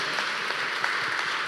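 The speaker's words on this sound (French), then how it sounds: "Merci, sous vos applaudissements." Audience applause at an award ceremony, a steady wash of clapping from a crowd, moderately loud and continuous through the short stretch.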